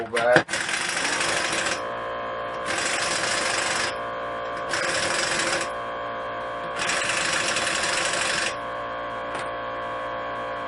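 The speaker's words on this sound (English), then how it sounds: "Had to turn the compressor off so I can finish up." An air compressor runs during a DIY rear brake and rotor job on a 2014 Nissan Altima, cycling in loud, steady bursts with a constant hum between them, and someone talks over it.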